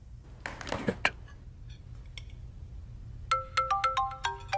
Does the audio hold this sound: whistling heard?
no